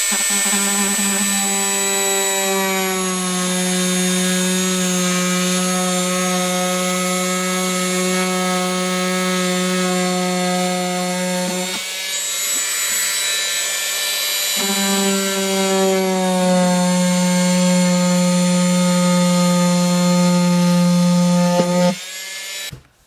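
A power tool cuts a plastic laundry basket with a loud, sustained whine that stays at a steady pitch, breaks off briefly midway, starts again and then stops, and nobody speaks.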